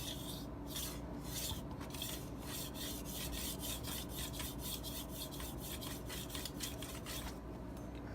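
German chef knife stroked across a fine 8000-grit Japanese water stone, a steady series of close, soft rasping scrapes in a regular back-and-forth rhythm, with no talking.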